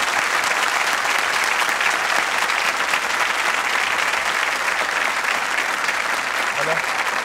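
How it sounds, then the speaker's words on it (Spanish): A 1983 television studio audience applauds in a dense, steady, loud burst of clapping that holds evenly from start to finish as a guest is welcomed. "Vamos a recibir con un gran aplauso a Coca Guasini."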